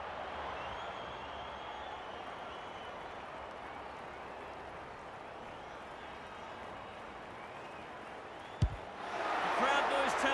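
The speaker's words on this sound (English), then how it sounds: "The crowd noise tells you all you need to know." Steady crowd roar from the AFL 26 video game during a Cats vs Lions Australian football match fills the background under a commentator's voice, with a sharp thud near the end followed by a louder swell of cheering.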